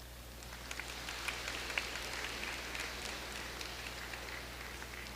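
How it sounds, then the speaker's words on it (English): A large crowd at a commencement ceremony gives steady applause as 638 graduating students are welcomed. The clapping sounds soft and distant, like a wash of rain, over a low hum. "Please give a round of applause as I welcome them."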